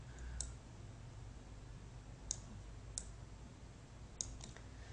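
A computer mouse clicks while points are moved in SolidWorks: four or five crisp, close, isolated clicks spread irregularly over a quiet room background, with no talking.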